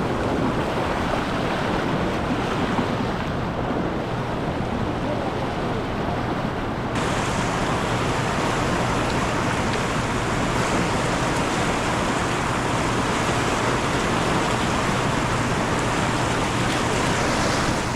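A dense, roaring wash of whitewater from river rapids on the James River surrounds a kayak surfing a wave, loud and continuous, with wind buffeting the microphone and a brief shift in tone partway through, no voices.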